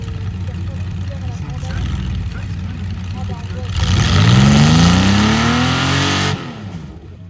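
A tractor-pulling tractor's heavy engine with automatic transmission roars up to full power at a French championship, pitch climbing steadily, then cuts off abruptly; a voice and crowd murmur are audible underneath.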